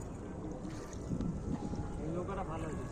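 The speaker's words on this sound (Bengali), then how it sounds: "আমার বর নৌকা চালাচ্ছে।" Small boat rowed across a lake with lotus plants, soft water sloshing and paddle movement under gusty wind noise on the microphone, with a voice talking over it.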